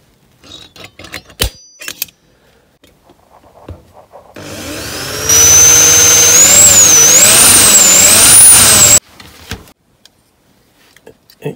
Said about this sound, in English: I've got that flat enough now to have a go with a drill. Just punch a hole in there.